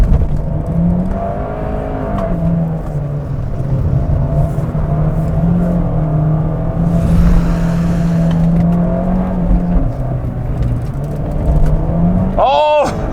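A manual Fiat 124 Spider with a 1.4 turbo engine driving on a wet road, a steady engine drone with shifting pitch as gears change, a rise in road and spray noise midway and a brief voice near the end.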